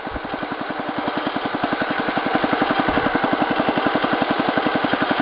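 A Wheel Horse 875 garden tractor engine running at low speed, a steady rapid chugging pulse close by that swells slightly partway through, with no voices.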